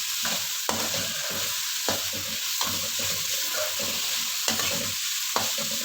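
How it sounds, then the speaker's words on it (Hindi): Capsicum being stir-fried in a pan for a restaurant-style chicken vegetable macaroni, with a steady sizzle broken by regular scraping strokes of a spatula, close and fairly loud with no talking. "सिर्फ 1 मिनट के लिए हमने शिमला मिर्च को भी फ्राई कर लिया है।"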